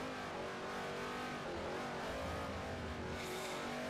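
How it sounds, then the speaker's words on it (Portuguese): Race car engines roar continuously in the Xbox 360 racing game Forza Motorsport 4, a steady loud drone with rising revs near the end and no talk. "não tô conseguindo nem ouvir a música direito com todo esse carro aqui"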